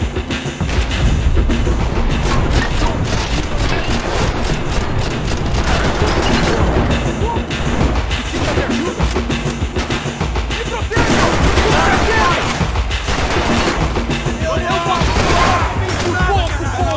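Blind-fire gunfire in the video game Max Payne 3 on hard difficulty, a loud, dense, continuous barrage of rapid shots and impacts lasting throughout with hardly a pause.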